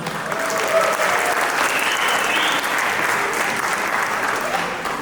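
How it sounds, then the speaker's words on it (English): Sustained audience applause at a music night event following a stand-up comic's introduction, a dense steady wash of clapping with a faint voice briefly audible early on, holding loud throughout. "A huge, huge round of applause for him"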